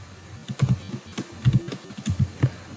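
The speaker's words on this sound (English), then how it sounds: "where I'm typing the word job loss" Typing on a computer keyboard, close and clear, with irregular bursts of keystroke clicks and short pauses between groups, no talking.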